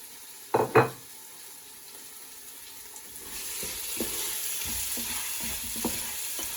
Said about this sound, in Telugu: ఇలా అల్లం వెల్లుల్లి పేస్ట్ ఇలా పచ్చివాసన పోయాక టొమాటో కట్ చేసుకున్నాం కదా, ఈ టొమాటోస్ వేసేసేయండి.